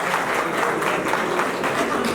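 Dense applause from an audience at a Nepali Congress party convention in a ward hall, continuous clapping of many hands, loud and steady throughout the short stretch.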